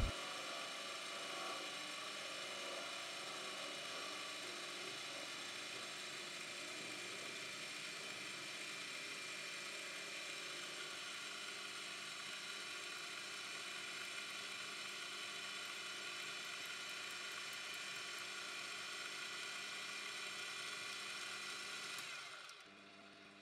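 A metal lathe centers and drills a watchmaker's face plate, turning too slowly for carbide tooling on small faces; a steady mechanical whir and hum runs continuously throughout, then drops away abruptly near the end.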